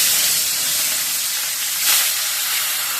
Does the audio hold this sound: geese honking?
no